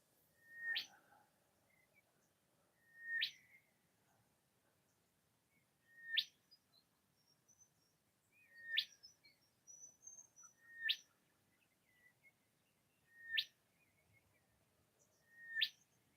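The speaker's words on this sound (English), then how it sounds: "Beautiful night, nice bird chirping in the background." Birds chirp at night beside the Tambo River, short bright calls repeating roughly every two to three seconds at moderate distance over a quiet background, with a faint cricket-like hum underneath.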